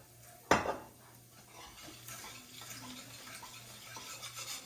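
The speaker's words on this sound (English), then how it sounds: "We're gonna do a little more oil in here. I want to get it pretty mixed up." Herb paste being stirred with oil in a pan for birria enchiladas, opening with a sharp utensil clatter against the cookware, then a steady low scraping and mixing that goes on without talk.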